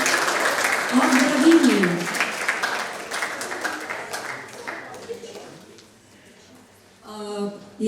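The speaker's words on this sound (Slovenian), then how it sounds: "En aplavz za najmlade iz osnovne šole" An audience claps for the youngest primary-school pupils at a Konjice municipality ceremony honouring top young achievers. The applause fills the first few seconds, then fades under an announcer's voice speaking over the hall's sound system.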